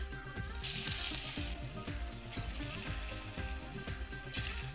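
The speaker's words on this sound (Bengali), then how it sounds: "এই ছাটি কুমড়ো মাখাটা বড়ার চাপ দিয়ে ভেজে নিচ্ছি" Ash gourd fritters fry in hot oil, a faint continuous sizzle with soft bubbling crackle, under steady low background music.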